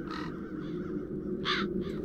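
Crows caw in the video game The Dark Eye: Chains of Satinav, a few harsh calls, one early and a louder pair near the end, over a steady low ambient drone.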